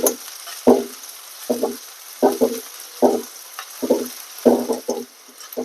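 Curry masala frying in a pan for a potato curry, a quiet background sizzle broken by repeated scraping strokes of a spatula stirring in an uneven rhythm, close and alone.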